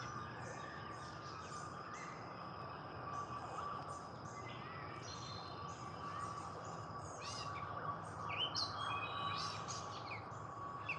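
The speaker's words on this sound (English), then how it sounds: "there are some kind of police cars somewhere," Faint, distant police or ambulance sirens wail in a continuous tone through the woods, with birds chirping nearby and scattered brief calls growing busier near the end.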